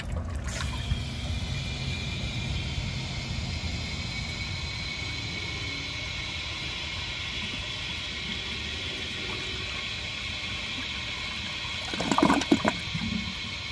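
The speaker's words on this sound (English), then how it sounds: "So now I am going to flush it again and see how badly it" A 1991 Kohler San Raphael toilet flushes with a steady rushing swirl of water that runs throughout, ending with a brief gurgle and clatter as the flush finishes, with no talking.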